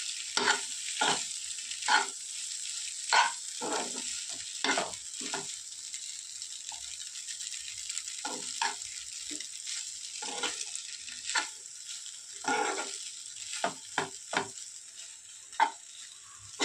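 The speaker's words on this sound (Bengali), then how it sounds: "এই 1 মিনিট মতো নেড়ে চেড়ে নিলেই তৈরি হয়ে যাবে কিন্তু ফ্রায়েড ম্যাগি" Fried Maggi noodles being stirred in a pan, with a steady soft sizzle under a series of irregular scraping strokes and taps from the spatula, close and moderately loud, no talking.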